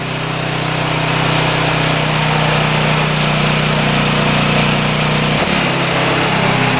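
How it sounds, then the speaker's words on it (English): A scooter engine fitted with a new carburetor and boot revs steadily at a high, buzzing pitch, loud and close, then drops briefly near the end with no talking. "See how it revs out completely?"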